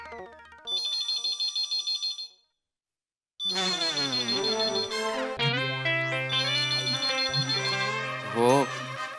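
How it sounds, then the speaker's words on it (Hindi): A telephone rings in a shop with repeated electronic ringtone bursts, a short pause, then the ringing resumes mixed with a melodic tune, loud and close. "फोन उठाऊं कि नहीं उठाऊं?"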